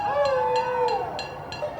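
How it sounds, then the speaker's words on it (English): Several voices howl together at sunset in the American West in long, wavering cries that rise and fall, with faint repeated taps or clicks sounding at regular intervals behind them. "Thousands of people have been howling at the moon,"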